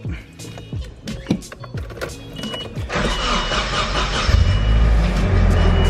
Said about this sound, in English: we're gonna go ahead and